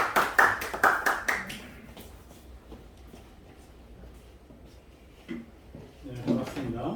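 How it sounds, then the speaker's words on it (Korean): A short burst of sharp hand claps welcoming a pastor to speak at a church gathering opens, then fades into quiet room noise with a few scattered taps and murmurs. "오실 때 큰 박수로 환영했으면 좋겠습니다"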